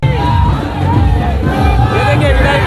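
A dense crowd gathered at Sangam crossroads in Ratangarh to welcome MLA Abhinesh Maharshi, loud and close, with overlapping chatter, shouts and whoops throughout.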